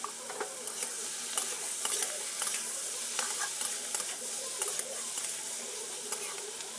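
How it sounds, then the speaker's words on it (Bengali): A spatula stirs dried fish chutney frying in a pan, giving repeated scraping strokes in an irregular rhythm over a continuous soft sizzle, close and fairly clear. "ভালো করে হচ্ছে খুন্তি দিয়ে নেড়ে নিচ্ছি"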